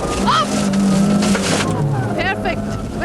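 A car accelerates during a driving lesson, its engine note rising and revving while an instructor and pupil talk over it.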